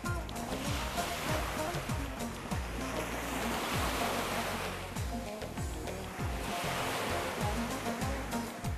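Sea surf rolling onto a sandy beach at Limonlu on the Turkish coast, a continuous washing roar under a melodic background with soft swells of louder breaking water.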